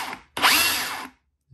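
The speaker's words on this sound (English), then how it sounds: "when you're drilling some walls and stuff like that on like bricks" A Ryobi power drill whirs loudly for about a second, a sharp rising motor whine starting abruptly after a brief earlier burst, then stopping and leaving near silence apart from a small knock at the end.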